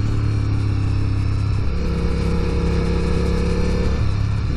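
Motorcycle engines roar loudly and steadily at speed with rising and falling pitch, riders running close on a 2020 S1000 ride, no talking.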